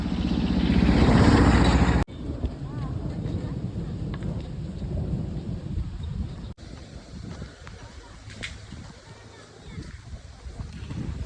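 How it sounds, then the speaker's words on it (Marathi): Rain rushes in with a loud burst of noise on the Narmada pilgrimage route, then settles into a steady patter with faint scattered sounds and a low rumble. "पाऊस यायला लागलाय"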